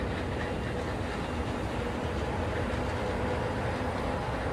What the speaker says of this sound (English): That's going to be the green monorail.